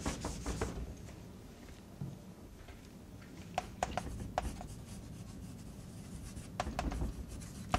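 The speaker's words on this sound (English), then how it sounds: "I'll write it up the top so it's more consistent." Marker or chalk writing on a lecture board during a national accounting lesson, soft scratchy strokes with a few sharp taps, fairly quiet in a roomy space.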